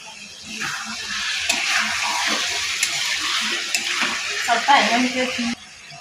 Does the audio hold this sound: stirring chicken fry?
yes